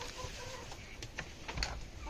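A hen with her chicks on a poultry farm gives soft, intermittent clucks at a moderate distance, with a few sharper calls among low background farm noise.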